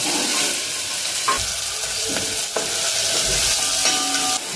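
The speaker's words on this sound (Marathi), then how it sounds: "तेल गरम झाल्यावर सर्वात आधी कांदा" Onion frying in hot sweet oil in a pan, a continuous close sizzle and hiss with a few scraping thumps of stirring at irregular intervals, no voices.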